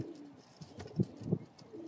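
White pigeons give soft low coos, two short rounded calls close together near the middle, over a quiet background with faint rustling.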